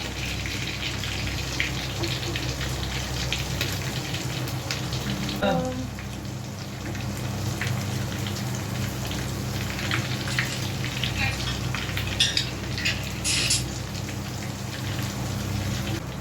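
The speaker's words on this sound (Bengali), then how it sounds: "আমি চারটে করে ফ্রাই করছি, তোমরাও খুব ছাটি ফ্রাই করবে না।" Shami tikiya patties sizzling in hot oil in a pan, a steady crackling hiss with spitting pops throughout, while someone talks over it.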